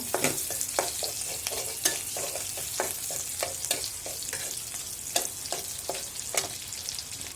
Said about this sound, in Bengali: পেঁয়াজ কুচি তারপরে পেঁয়াজটা ভেজে নিচ্ছি লাল লাল করবো